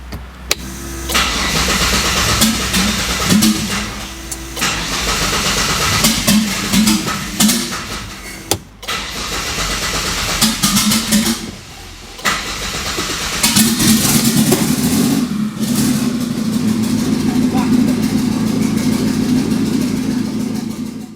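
A twin-turbo Triton engine in a broken car on a dyno cranks, fires and revs in repeated loud bursts with brief pauses, then settles into a sustained, rough, throaty drone.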